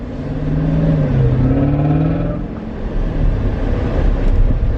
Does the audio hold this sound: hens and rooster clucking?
no